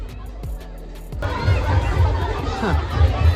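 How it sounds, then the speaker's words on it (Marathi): Crowd chatter and shouting at a small, packed village swimming pool on a busy Saturday, a dense babble of many voices with splashes and children's calls, quiet at first and then swelling loud and steady. "एवढीसा पूल आहे आणि गर्दी बघा किती आहे"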